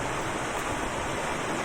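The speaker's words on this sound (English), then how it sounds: "So I heard the water" Water flows continuously over an old ford crossing, a steady broadband rush like a small stream or weir, heard alone from fairly close by with no voices.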